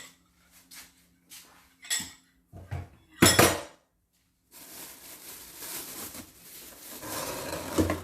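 Eggs go into a mixing bowl for donut dough, with a few sharp clinks and knocks against the bowl, followed by a longer, steady rustling and scraping, close by and without speech.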